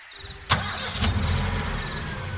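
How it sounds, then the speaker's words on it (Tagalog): A car engine cranks and fires up with a sharp start, then settles into a steady, close idle with no talking. "Kaagad kong pina-start ang sasakyan."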